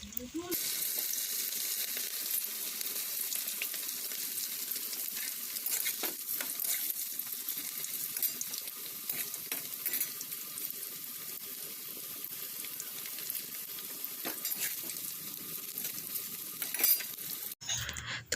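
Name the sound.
pakoras deep-frying in hot oil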